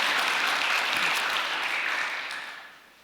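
Applause of thanks from a Korean peace blessing ceremony audience, a dense crowd of clapping hands that holds steady and then fades away toward the end, with no one speaking over it.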